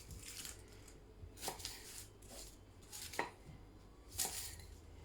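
Knife chopping lamb curry ingredients on a chopping board, a handful of quiet, crisp cuts spaced irregularly over a soft low background, with no talking.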